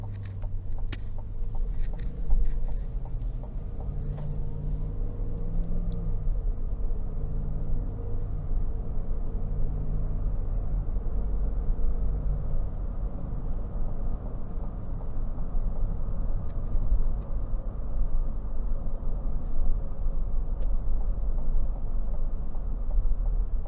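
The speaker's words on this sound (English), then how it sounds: "we're going to go ahead and take it on the road for a quick test drive" A 2022 GMC Yukon SLE base model on the road, with a steady low cabin rumble of engine and tire noise that holds constant and fairly loud, briefly layered with faint higher clicks early on, with no talking.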